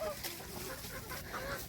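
Hens clucking in a farm shed as they come into laying, a steady low murmur of several birds close by with a few higher calls rising over it.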